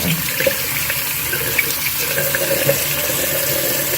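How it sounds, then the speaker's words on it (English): Cold tap water runs steadily into a sink, a continuous close hiss and splash with no talking. "So I'm running on the cold water"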